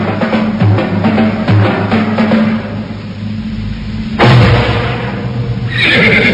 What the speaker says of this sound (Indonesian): seorang penunggang kuda memasuki halaman rumah Nyai Tumpak Seti